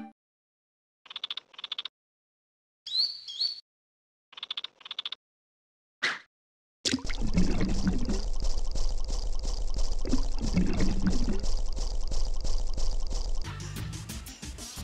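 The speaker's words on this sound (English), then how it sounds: "the ambient environment in this game is phenomenal, better than any game I've ever seen, past or present. You know, you can listen to the sound of bugs and water." Ambience from the PS1 fishing game Action Bass: several short bursts of high insect chirping with gaps of silence, then a loud, continuous rush of running, pouring water that fills the rest of the scene.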